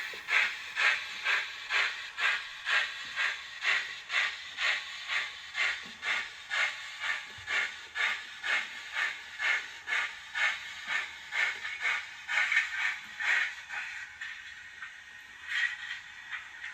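A model train pulls forward with three wagons on a layout, giving a steady rhythmic chuffing with hiss that repeats evenly and close, then softens toward the end.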